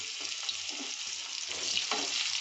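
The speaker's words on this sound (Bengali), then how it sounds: "তারপরে জিরেটা ভালো ভাজা করে তারপর এটার মধ্যে কুচানো মির্চ দিয়ে দিলাম" Chopped green chillies frying in a little oil with cumin seeds, a bright close sizzle with soft stirring knocks, steady and unbroken, no voices.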